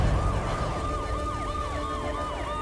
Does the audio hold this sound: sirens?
yes